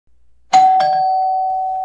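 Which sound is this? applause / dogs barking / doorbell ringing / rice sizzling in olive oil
doorbell ringing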